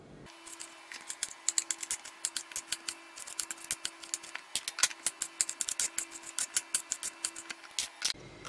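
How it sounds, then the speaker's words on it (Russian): Knife chopping fresh tomatoes on a board in a home kitchen while preparing eggplant with cabbage for winter, a steady run of quick crisp cuts with short pauses, close and fairly loud. "Крошим помидоры."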